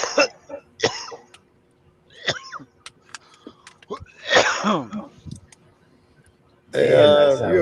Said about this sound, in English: You gotta learn to mute your mic when you coughing like that.